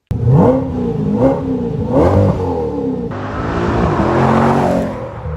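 A Corvette C8 with the LT2 V8 revs loudly and close through a short X-pipe exhaust. It gives several rising, blipping revs, then one longer, rasping hold.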